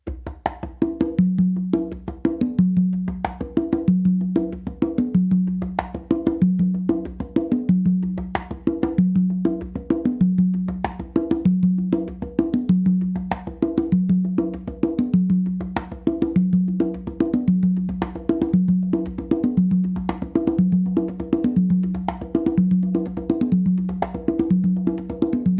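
A steady songo groove on three congas runs for a long stretch, with crisp slaps and open tones cycling over a resonant low tumba pulse, close, loud and unaccompanied.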